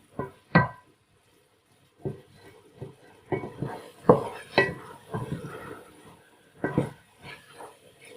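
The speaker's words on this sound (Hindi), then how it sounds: "अब 2-3 मिनट के लिए इसे मिक्स करेंगे, पकाएंगे।" Spices and moong and masoor dal are mixed and cooked in a pan, with intermittent clinks and scrapes of a spoon against metal separated by short quiet gaps, close to the listener and fairly soft.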